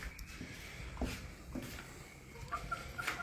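Chickens cluck softly with a few short, scattered calls near the end, faint against quiet rustling and shuffling in the background.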